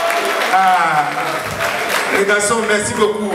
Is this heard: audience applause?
yes